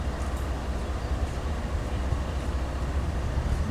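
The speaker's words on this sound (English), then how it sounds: "I can hear a locomotive" A locomotive rumbles through a downtown street in Kingsport, a steady low-pitched drone with continuous engine noise and no distinct horn, fairly loud and unbroken throughout.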